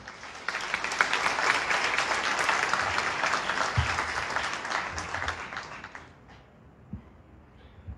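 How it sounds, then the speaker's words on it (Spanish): An audience claps warmly for several seconds, then the applause fades out, leaving a quiet room with a couple of soft thumps. "Fuertes los aplausos"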